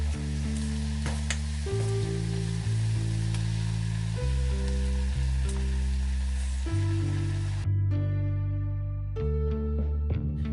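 Honey chilli sauce with ginger sizzles steadily in a hot pan, a constant close frying hiss lasting the whole stretch with a low background hum underneath and no talking.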